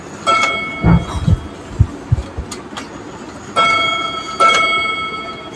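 A vintage 8-day master clock gives a few dull mechanical knocks, then two clear ringing chime strikes that sustain and fade, loud and close with no talking.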